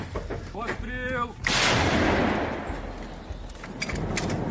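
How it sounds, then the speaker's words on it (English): A Ukrainian artillery crew fires an American M119 howitzer, one loud blast with a long rumbling decay, following a short stretch of speech. "a Ukrainian artillery battery operating the American M119 howitzer"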